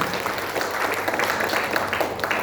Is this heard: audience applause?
yes